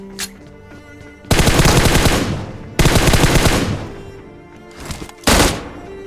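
Bursts of automatic gunfire from enemy shooting in a battle-royale style video game, three loud sustained volleys separated by brief quieter gaps with faint background game sounds.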